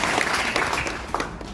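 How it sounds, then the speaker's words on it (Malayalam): A group of people, students and parents, clap together in a hall, a short, faint burst of scattered handclaps. "എല്ലാവരും ക്ലാപ്പ് ചെയ്താണ്."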